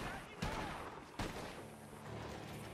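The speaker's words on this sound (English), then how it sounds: "gunshots are coming from that barn!" Gunfire in Red Dead Redemption 2 from a barn, with two sharp, loud shots about a second apart over a busy game soundscape, followed by low rumbling.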